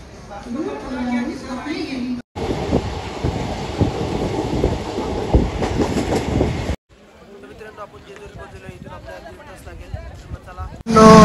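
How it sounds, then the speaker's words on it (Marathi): Train arriving at a station in Satara, rumbling and clattering along the tracks, loud in the middle stretch, with people talking nearby before and after. "तर आता आपली ट्रेन येईल 5 मिनिटांमध्ये"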